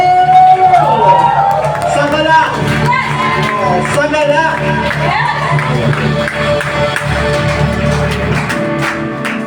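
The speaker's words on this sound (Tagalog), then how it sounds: "Palakpakan natin, Panginoon! Sumigaw! Sumigaw!" A church congregation at a Sunday service claps and shouts together. The noise is loud and continuous, with a dense crowd wash and voices calling out over it.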